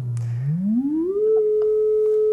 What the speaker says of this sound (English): It's a pretty good sine wave, pretty low distortion.